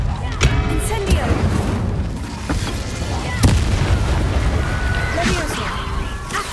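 Incendio fire spell blasts in the video game Hogwarts Legacy, with a few sharp, loud bursts and booms standing out over a dense, rumbling battle background.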